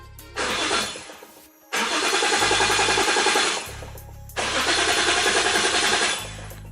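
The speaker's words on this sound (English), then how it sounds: "we're gonna flip this switch and the car should crank" A Nissan 240SX engine is cranked three times by its starter through a push start button, each burst a loud, rapid rhythmic churning of a second or more without catching, separated by brief pauses.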